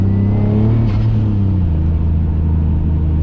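A turbocharged 450 HP BMW E34 engine rumbles loudly and steadily at close range, a deep throaty exhaust drone with a faint turbo whirring whine above it.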